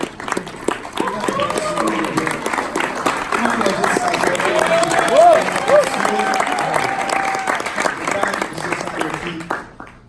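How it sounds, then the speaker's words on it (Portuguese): Church congregation applauding a couple asked to stand, steady crowd clapping throughout with cheering voices and music-like tones mixed in, tapering off at the end. "para a gente aplaudir esse casal que eu amo muito"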